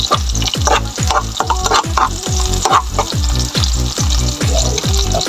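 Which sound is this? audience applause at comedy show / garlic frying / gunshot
garlic frying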